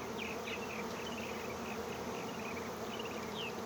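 A steady, dense buzzing of a honey bee swarm, bees fanning, fills the clip, constant and fairly loud throughout with no voices.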